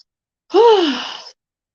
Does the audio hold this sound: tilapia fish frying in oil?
no